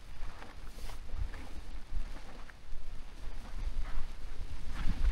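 Storm wind gusts buffet a tent pitched under a tarp during an overnight solo motorcycle camping trip in a typhoon, a steady loud roar with surging gusts and low rumbling flaps close to the microphone.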